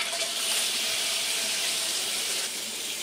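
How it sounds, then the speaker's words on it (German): Hot water from a tap set fully to hot pours steadily into a blocked shower drain, a continuous broadband hiss of running water held evenly for the whole stretch with no talk. "ich lasse jetzt wirklich heißes Wasser reinlaufen"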